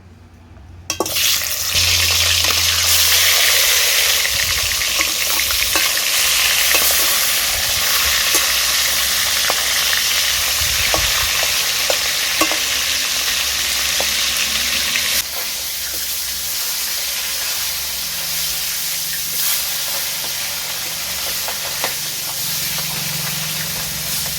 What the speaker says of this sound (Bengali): তেল গরম হয়ে গেছে এবার আমি মাছের মাথাটা ভেজে নেবো